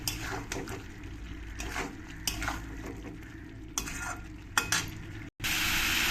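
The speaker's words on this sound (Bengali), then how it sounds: "এই ভাজা ফুলকপি আর আলুটাকে দিয়ে ভালো করে একটু আমি কষিয়ে নেবো" Fried cauliflower and potato being stir-fried with spices in a pan, with repeated scraping and stirring strokes over a continuous soft sizzle, close and fairly even.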